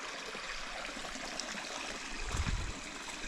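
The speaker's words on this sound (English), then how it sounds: "Very nice water source here. Absolutely beautiful water." Water from a stream at a water source on the Appalachian Trail in Vermont flows in a steady, soft rush, rising briefly toward the end. The sound is faint and unbroken.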